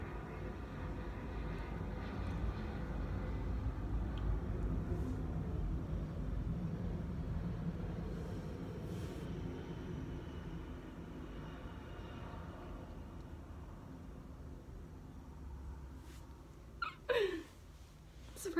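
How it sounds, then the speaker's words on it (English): An airplane passes overhead in the background, a faint, broad low rumble rising and fading over many seconds, with a few brief knocks near the end. "Sorry for that plane in the background"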